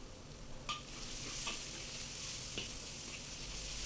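Chopped onion and garlic sautéing in a pan, a quiet steady sizzle with a few sharp stirring scrapes and clinks of the utensil, close and alone without talk.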